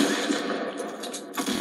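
Rapid gunfire in the Fortnite video game rattles on steadily for under two seconds, a dense continuous burst at moderate loudness with no talking over it.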